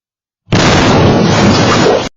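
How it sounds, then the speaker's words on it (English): A two-story house explodes in a single loud, sustained blast that roars for over a second and a half, a wall of noise that starts and stops abruptly. "There is a loud explosion."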